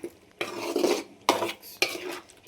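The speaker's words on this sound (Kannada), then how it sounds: "ಇದನ್ನು ಚೆನ್ನಾಗಿ ಇವಾಗ ಫ್ರೈ ಮಾಡ್ತಿದ್ದೀನಿ." Chicken gravy with coconut milk being stirred and fried in a pan, a spoon scraping and clattering against the metal in three bursts, close and clear with faint sizzling underneath.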